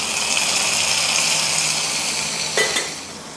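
Hot oil tempering with mustard seeds, dried red chillies and curry leaves gives a steady, bright sizzle. A sharp, brief splash of hissing near the end marks it being poured into an Onam sadya pachadi.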